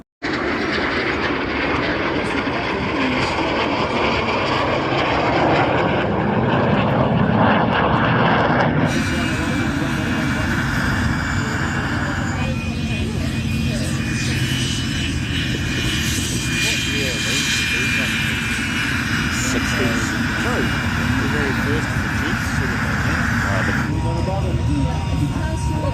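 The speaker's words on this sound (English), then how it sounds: "Beautiful sound. Like any de Havillands, I don't think there's been an ugly de Havilland ever built." A de Havilland propeller aircraft passes at an airshow, its engine a loud, continuous drone that swells and shifts in tone as it flies by, with people talking over it.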